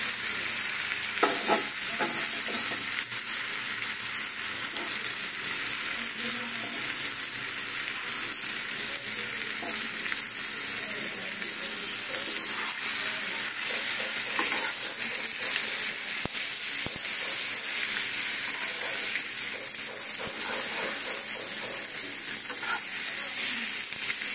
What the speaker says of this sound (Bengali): আলু আর ডিমটাকে দিয়ে দিচ্ছি।